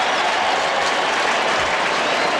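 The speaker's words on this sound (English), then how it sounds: "And the call is being applauded by Saints players." Applause from Saints players at a 1995 NFL football game between the Miami Dolphins and New Orleans Saints, a dense wash of clapping and stadium crowd noise, loud and continuous.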